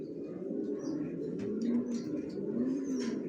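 Many original racer pigeons in a loft keep up soft, overlapping throaty coos, a low steady murmur with a few rising-falling calls standing out, heard at moderate distance.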